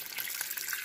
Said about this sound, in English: I'll add a little bit of water to it